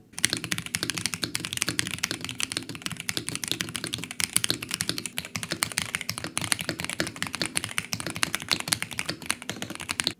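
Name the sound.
mechanical keyboard typing after tape mod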